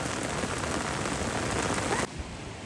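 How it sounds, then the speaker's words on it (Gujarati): Heavy rain pours down in a dense, steady hiss during prawn fishing, loud and continuous. Near the end it suddenly becomes slightly muffled and softer. There is no talk. "અને વરસાદ શરૂ થઈ ગયો"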